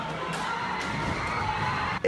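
Protesters shouting and clashing in a chaotic street scene in Charlottesville, Virginia, after a car plowed into a crowd: a dense, steady roar of many raised voices and whoops, continuous and fairly far off, with a brief louder burst at the end.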